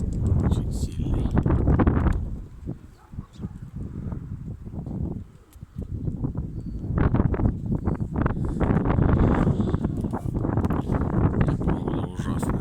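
Strong gusty wind buffeting outdoors in bad weather, with roaring bursts against the microphone that dip briefly and return, heard under intermittent talking.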